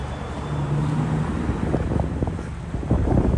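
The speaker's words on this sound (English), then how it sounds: "this is the windy side of the street" Steady wind gusting along a Brooklyn city street, a continuous broadband rush with low buffeting on the microphone and faint traffic rumble underneath, no talking.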